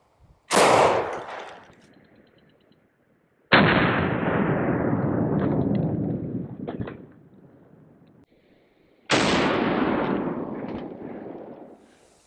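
Three booming rifle shots from a 1903 rifle strike a ceramic Level IV multi-curve body armor plate about 15 feet downrange, each a sharp loud blast with a long rolling echo that fades before the next.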